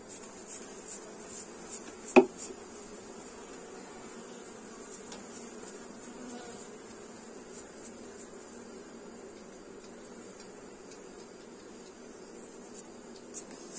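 Honey bees buzz around honeycomb frames during honey extraction, making a faint, steady drone. A single sharp knock stands out early, and a few light taps follow.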